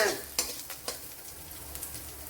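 Green chillies fry in a hot pan while being stirred, a continuous close sizzle broken by several sharp utensil scrapes and clinks against the pan; no talking is heard.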